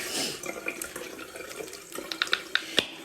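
Running tap water splashes as a face is washed with cleanser at a sink, with a steady close stream and several sharp drips and splashes toward the end.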